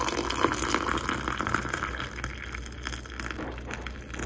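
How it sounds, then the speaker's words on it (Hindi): Hot water pours steadily into a cup holding a tea bag, a continuous close gushing splash lasting several seconds with no voices. "मैंने एक टी बैग डाला हुआ है और सिंपल बस पानी डाल के"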